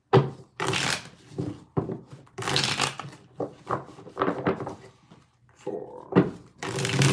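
Tarot cards shuffled in repeated riffling bursts, several distinct rounds of crisp papery flutter separated by short pauses, close and moderately loud.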